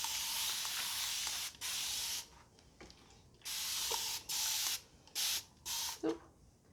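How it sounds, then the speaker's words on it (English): Spray bottle misting water onto hair in a series of hissing bursts, a few long sprays followed by several short quick pumps, close and fairly loud with quiet gaps between. "I am going to spray it down a little bit with a little bit more water."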